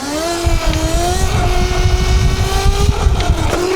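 An ETM RTR Revolver RC car's upgraded motor runs under throttle with a loud, close, steady whine that rises slightly in pitch, along with rough mechanical rattling underneath.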